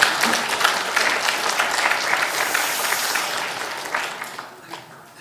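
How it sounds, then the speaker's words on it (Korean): A Sunday afternoon church congregation bursts into applause, a full, continuous round of clapping from many people that fades slightly toward the end. "이럴 때는 딴 데서는 박수 치는 거."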